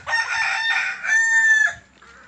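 A rooster crows on a poultry farm with hens, ducks and geese, one loud, close cock-a-doodle-doo call in two drawn-out parts that ends abruptly, heard on its own.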